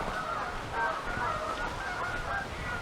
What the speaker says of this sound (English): it's just started to rain, which has set the Canada geese off